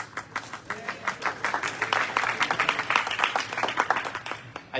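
Audience at a town hall meeting applauding the mayor, a dense patter of many hands clapping steadily for several seconds in a mid-sized room, with some voices mixed in.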